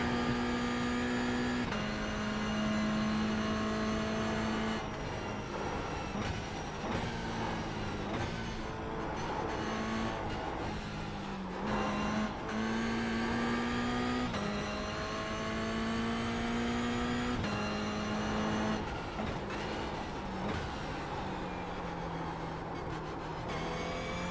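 A race car in the iRacing simulator drones loudly and continuously, its engine pitch sliding up through the gears and dipping under braking before climbing again, heard alone with no talking.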